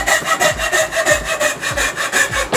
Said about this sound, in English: I'm sawing into some electronics